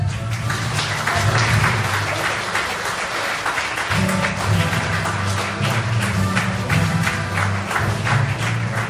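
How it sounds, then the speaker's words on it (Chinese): A live audience at a business event in Singapore applauds a speaker invited onto the stage. The clapping is dense and steady for the whole stretch, with background music running underneath. "我们以全场最热烈的掌声来邀请"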